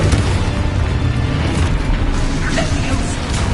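An Expulso spell explosion in the Hogwarts Legacy video game, a loud, dense rumbling blast that fills the whole short stretch with booming noise and crackling debris.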